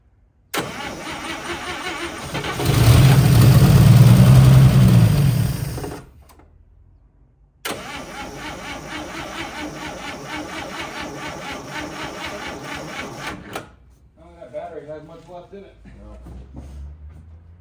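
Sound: 1955 Chevy engine cranking, failing to start

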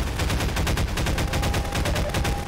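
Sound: gunfire in the video game Half-Life 2

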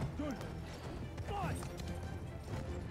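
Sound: horse galloping in Battlefield 1 video game

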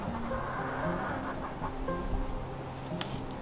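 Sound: chickens clucking

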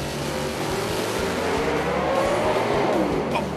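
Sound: race car sliding sideways into the wall at Bristol

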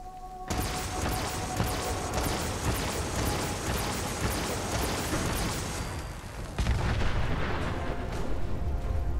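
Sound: explosions and gunfire in video game Fallout 4

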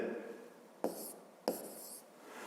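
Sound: writing segment names in a notebook

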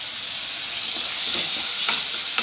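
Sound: tempering sizzling in a pan with tomato

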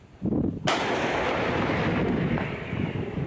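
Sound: self-propelled howitzer firing

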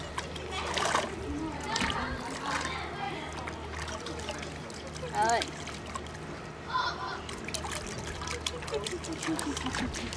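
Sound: child splashing water in a pool

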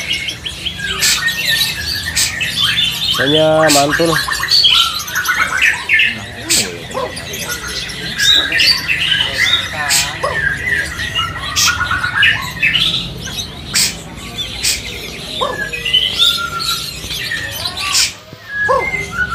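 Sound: caged songbird calling

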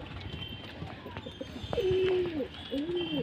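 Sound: fancy pigeons cooing at a breeding farm

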